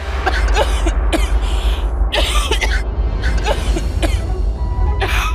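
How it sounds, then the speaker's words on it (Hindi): Repeated harsh coughing and throat clearing in bursts, close and loud over a steady low background hum, with no talking. "देखो कैसे खांसी उठाई ना"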